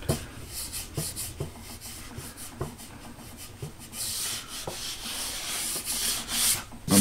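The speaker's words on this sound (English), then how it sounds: "I just wanted to clean any burrs off where from me sanding it with" Sandpaper rubs back and forth over a shop-made wooden dado throat plate for a table saw, a steady rasping scrape in quick repeated strokes, close and clear with no talking.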